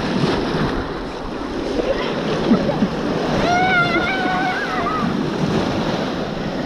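Ocean waves wash and break along the shore in a steady surf roar with wind buffeting the microphone, while a faint tonal sound rises briefly in the middle.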